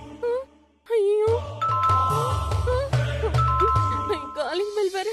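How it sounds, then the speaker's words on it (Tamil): A door calling bell in a Tamil TV serial home rings out in two bright ding-dong chimes, heard over background music with a voice speaking before and between them. "காலிங் பெல் வேற அடிக்குதே."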